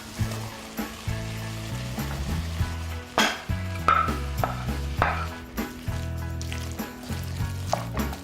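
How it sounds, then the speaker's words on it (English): Corn and black beans tipped into a pan of sizzling vegetables, a steady close frying hiss with soft stirring and pan scrapes throughout, no voices. "So now it's time to add the corn and some black beans to my vegetable mixture"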